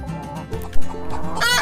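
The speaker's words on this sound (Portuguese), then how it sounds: "Galinha, chicken." Farm chicken clucking in short, close bursts, with a louder squawk partway through and a harsher cackle at the end, heard alone without talk.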